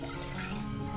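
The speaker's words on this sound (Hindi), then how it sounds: "पानी डाल दूंगी।" Water, about two glasses' worth, pours into a pressure cooker in one brief, quiet, steady splashing trickle with no talk.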